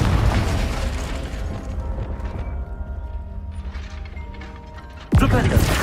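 The Confringo fire-blast spell in Hogwarts Legacy ends the clip with a sudden loud burst. Before it come mechanical clanks, rumbling and scattered talk.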